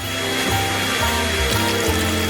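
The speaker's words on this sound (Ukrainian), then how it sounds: "Я можу спробувати розморозити її гарячим повітрям із фену." A hair dryer blows hot air to defrost something in a kitchen, a loud steady whirring hum with slight pulsing, close up and alone.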